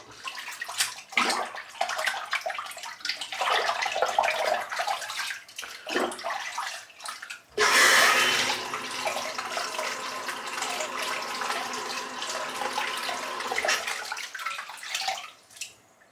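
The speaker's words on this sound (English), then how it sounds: "So, drop it in the warm water and clean off the soap." Shaving brush rinsed in warm water to wash off soap: splashing and sloshing water with short pauses, then a louder burst of running water that continues steadily, close up.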